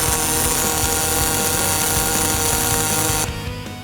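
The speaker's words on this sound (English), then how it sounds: "Turns out Frank can weld" Welding sounds as a continuous loud, dense buzzing and crackling hiss that runs steadily for about three seconds, then drops to a quieter, rougher tail, with no one talking.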